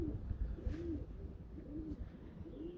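A Bokhara trumpeter pigeon, an old black cock bird, gives three soft, rolling coos spaced about a second apart, close by and steady.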